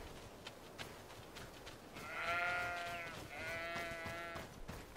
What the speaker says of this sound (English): Fucking sheep.